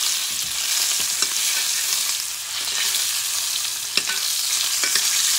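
Ostrich steak frying in butter in a pan, basted with a spoon, gives a steady close sizzle with light scraping taps and a few sharper clicks, no talk.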